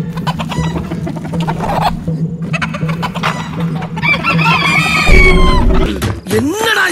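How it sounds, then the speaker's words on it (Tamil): A rooster standing inside a house in the Tamil film Jithan 2 clucks and crows loudly close by, its calls rising over a busy mix of music and other film sound, with a strong crow near the end. "வீட்டுக்குள்ள ஒரு சேவல் நிக்குது"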